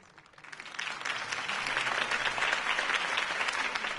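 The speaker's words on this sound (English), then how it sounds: "If only Mr. Wayne, my campaign's largest backer, could have heard that applause" A crowd claps steadily after a Harvey Dent campaign speech, the applause swelling within the first second and holding as a dense, even wash for several seconds without talk.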